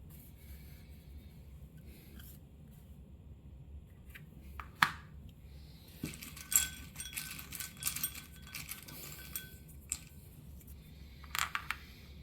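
A ten-sided die is rolled for a tabletop game, making a few sharp clicks and rattles on a hard surface, with short bursts that are spaced out over quiet background.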